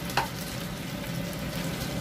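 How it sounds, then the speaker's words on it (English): Chicken wings with celery and cashews bubble and sizzle in gravy in a covered pan over a medium flame, a steady close hiss with one brief clink near the start. "Let it boil."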